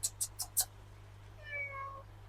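A cat outdoors at an early morning koi pond, four quick soft clicks or taps followed by one faint drawn-out meow over a low steady hum.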